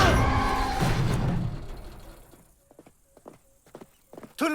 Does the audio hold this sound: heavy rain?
no